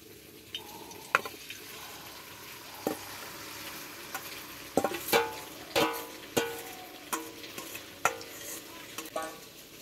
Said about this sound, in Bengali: এবার আমি এই চাউমিনের ব্যাটারটা কড়াইয়ের মধ্যে দিয়ে দেব।